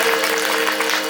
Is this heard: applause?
yes